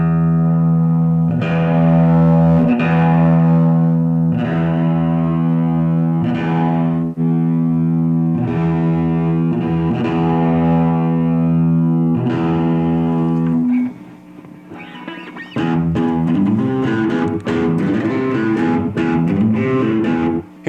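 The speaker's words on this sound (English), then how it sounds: "Let's engage the high overdrive, the high distortion." An electric guitar played through a cheap high-gain overdrive distortion, with sustained buzzing chords struck repeatedly, a brief drop in level, then a denser stretch of distorted riffing, loud and up close.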